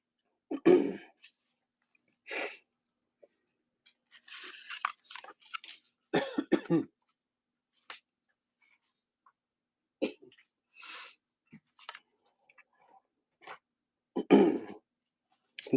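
Someone who has just swallowed a SweeTart candy coughs and clears their throat in harsh, separate fits with quiet pauses between, close and loud, alongside faint chewing and breathing.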